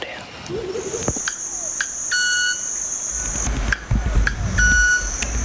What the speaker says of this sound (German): Er spielt die Vogelgeräusche gerade ab und der Vogel antwortet.